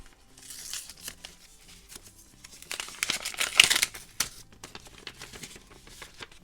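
Paper envelopes of mailed letters being torn open and handled: bursts of crinkling and ripping paper, close and fairly loud in the middle, with softer rustles before and after.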